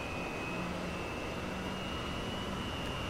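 Su-27 jet engine in the DCS flight simulator spooling up as the throttle is advanced during taxi, a steady, dense roar with a thin high whine that holds throughout, no voices.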